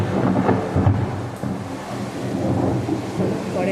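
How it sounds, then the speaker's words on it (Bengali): Deep rumbling thunder rolls through a heavy downpour, with rain hissing steadily throughout and low booms swelling near the start and again toward the end. "মেঘ ডাকছে।"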